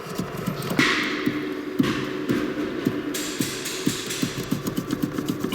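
Knocking in the steering column of a Toyota Surf 185 as the lower shaft is moved by hand, a steady run of sharp, close taps and knocks repeating irregularly over a faint background hum.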